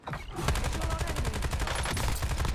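Rapid automatic gunfire in Call of Duty: Warzone late in a battle royale match, a steady fast stream of loud close shots after a brief quiet start, with no talking.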